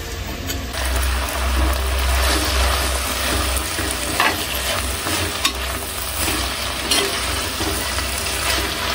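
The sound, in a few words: onions frying in a pan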